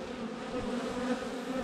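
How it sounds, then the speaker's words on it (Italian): Honeybees swarming around an open beehive frame in cold weather, a dense continuous buzzing hum, close and steady, with no talking. "Le api ci sono, troppe, anche troppe"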